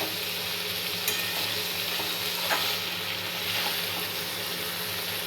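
Coconut paste ground with green chili sautés in a pan, giving a continuous close sizzle and hiss with faint stirring clicks and scrapes.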